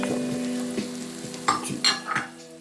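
Diced carrots added to a hot pot for turmeric jasmine rice, sizzling steadily while a spoon stirs and scrapes in a few quick close clanks.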